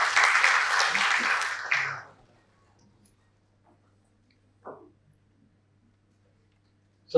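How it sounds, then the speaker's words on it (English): Applause from an audience at an agricultural productivity conference, clapping for just under two seconds before cutting off into near silence broken by a couple of faint knocks. "Let's have a round of applause for him."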